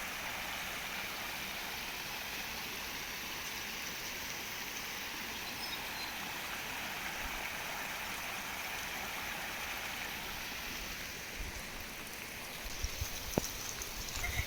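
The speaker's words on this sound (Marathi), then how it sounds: "पाऊस आता कमी झालाय थोडा थोडा आणि ओढा वाहिल्यासारखं हे पाणी वाहतं इथून" A continuous watery rush of a flowing stream mixed with light rain, steady and moderately distant, with a few small knocks near the end.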